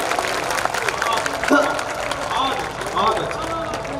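Audience at a Hindi kavi sammelan comedy poetry event applauding in a continuous, loud wash of clapping with crowd murmur, voices rising briefly above it.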